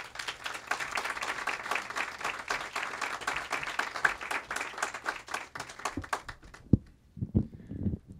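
Audience applause welcoming author Jesmyn Ward at a book talk, steady dense clapping from a crowd that fades out toward the end, followed by a few stray claps and brief noises.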